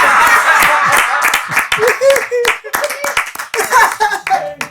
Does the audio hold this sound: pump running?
no